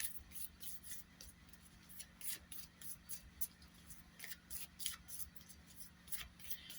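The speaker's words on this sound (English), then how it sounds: "Let's do some shuffling and hope that one card comes out." Tarot cards shuffled by hand in a quiet room, a steady run of soft riffling and slapping card noises with brief bright flicks, close and faint, with no talking.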